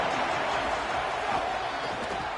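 A football stadium crowd gives off a steady, loud, roaring wash of cheering and noise aimed at the offense, sustained without a break from start to finish.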